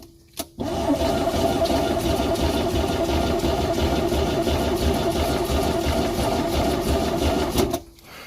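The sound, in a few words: Mercruiser 3.0 boat engine cranking and starting up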